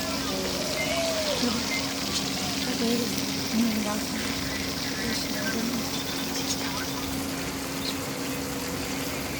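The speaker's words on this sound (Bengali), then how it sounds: "মাছটা হালকা ভেজে নেওয়া হচ্ছে, হালকা রান্না করা হবে তো।" Hilsa fish pieces frying lightly in hot oil, a steady close sizzle and crackle running throughout with faint clinks and a low background hum.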